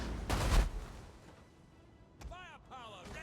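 A heavy booming volley from artillery ships in the strategy game Total War Rome 2, a dense low blast early on, fading into quieter rumble, then a voice speaks over the battle.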